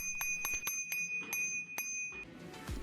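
A handlebar bell on a Bird ES4-800 electric scooter rings several times in quick, bright dings with a sustained tone, close and clear, followed by some handling noise.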